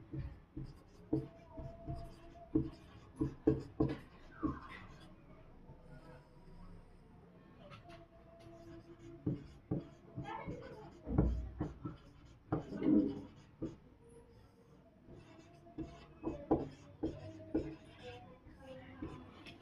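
Pen or chalk writing out sentences during a Sanskrit class makes scattered taps and scratchy strokes in irregular bursts, quiet and close, with faint room noise and occasional low voices in the background.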